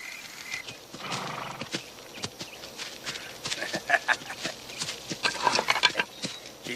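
Horse hooves clip-clop steadily alongside whinnying in a western film, with a busy, rhythmic patter of hoofbeats rising in intensity toward the end.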